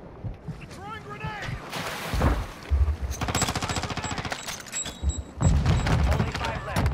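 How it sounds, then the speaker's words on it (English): In Call of Duty Modern Warfare II, a grenade explosion booms, then rapid bursts of gunfire rattle at close range. Players talk over the shooting and the blasts. "Throwing grenade!"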